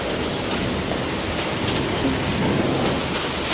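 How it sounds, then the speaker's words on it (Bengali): Heavy rain pours steadily onto trees outdoors, a dense continuous wash of drops close by with no break, and no voices over it. "কত বৃষ্টি দেখছো"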